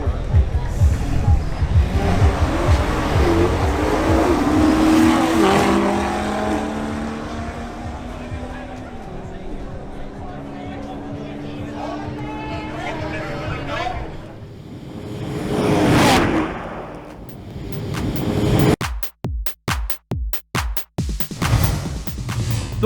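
A BMW X6 M50i drag racing at an outdoor strip, heard as a loud engine roar that builds and fades in long sweeps. Crowd noise and talk sit under it, and bursts of wind buffeting close the run.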